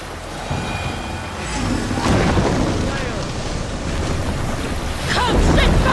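In the Assassin's Creed Valhalla video game, a Viking longship sails across ocean waves. Rushing water and gusting wind swell and ebb, and a few faint voices are mixed into the surf.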